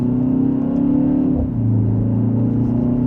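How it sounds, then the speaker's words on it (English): Engine of a 2025 BMW X1 M35i in sport mode, second gear, droning steadily with a rising harmonic pitch, a brief dip around a shift, then a lower sustained note as it pulls on, loud and close inside the cabin. "And a mild acceleration, we're up to speed."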